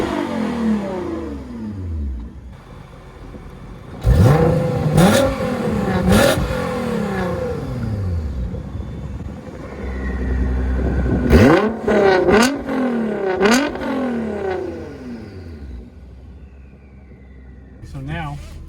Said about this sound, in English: So this is with the exhaust open right now. Got a nice, pretty loud tone to it.